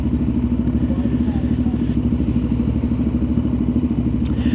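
A Yamaha motorcycle fitted with a Scorpion aftermarket exhaust runs at a steady, loud, close-up drone with a constant low engine note throughout.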